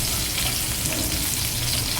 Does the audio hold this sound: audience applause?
no